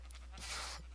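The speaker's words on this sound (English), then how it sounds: "Sheep." A single short sheep bleat from Minecraft, faint and slightly muffled over a low, steady background hum.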